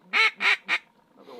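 Ducks over a standing corn field on a hunt, giving three loud, quick quacks in a row, followed by a softer, fainter call trailing off.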